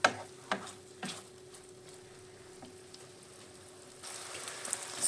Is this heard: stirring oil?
yes